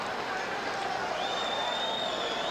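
A capacity crowd fills a WWF wrestling arena with a steady, dense roar of murmuring and cheering that holds at an even level throughout, with no distinct voices standing out.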